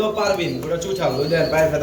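Close pigeons cooing at a bird market, soft repeated throaty coos in a rolling rhythm, with a voice talking nearby.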